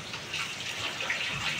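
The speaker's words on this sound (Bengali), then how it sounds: "তো এখন সেই যে মশলার জলটা রেখেছিলাম সেই জলটা দিয়ে দেবো।" Reserved spiced water is poured into a chicken curry, giving a brief soft gushing splash that stays steady and quiet throughout, with no talking.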